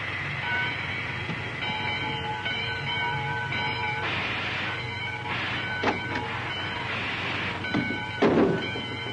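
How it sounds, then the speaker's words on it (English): A train pulls out in an old radio drama sound effect, steady rumbling with rising and falling tonal whistles and hisses, mid-distance and continuous. "It's about time for the train to leave."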